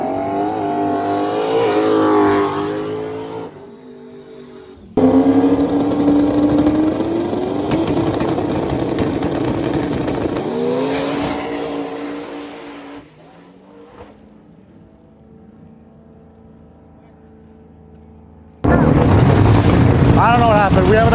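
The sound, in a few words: drag race car run down the track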